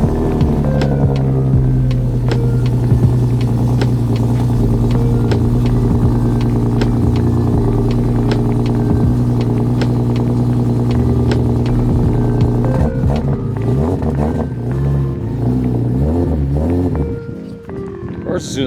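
A BMW M3 idles nearby with a steady, even hum as it is moved outside a garage, then the engine note wavers and shifts near the end.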